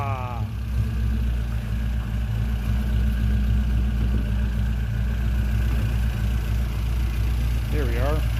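A Singer work truck engine idles steadily nearby, a low continuous rumble with a faint mechanical clatter, while someone talks over it.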